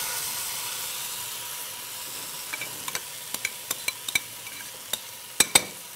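A spice-rubbed pork tenderloin sears in a hot pan, giving a soft continuous sizzle with sharp sputtering pops that grow more frequent toward the end.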